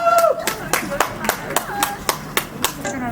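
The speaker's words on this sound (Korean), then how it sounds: "우측에 박수를 크게 칠게" Audience claps loudly in a steady, evenly spaced rhythm at a public art workshop event, sharp claps ringing out while a few voices briefly mix in at the start.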